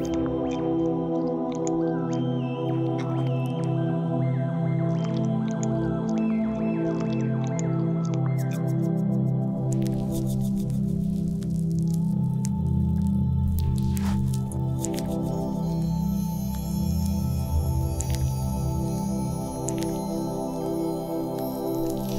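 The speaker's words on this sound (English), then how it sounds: "Now mix a hydrogel mask and slather it on thoroughly." A hydrogel face mask is mixed and slathered on, with close, wet squishing and gooey smearing sounds mingled with drippy, squelching tones over a long stretch.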